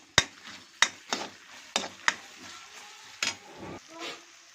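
Dried red chilies stirred in a frying pan while cooking pepper chicken, a series of sharp close scrapes and knocks from the spoon against the pan over a faint sizzle.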